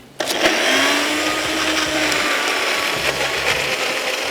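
An electric mixer-grinder whirs loudly as it pulverizes a dry chutney mix, starting abruptly and then holding a steady high-pitched motor drone with slight rattles for several seconds, close and without speech.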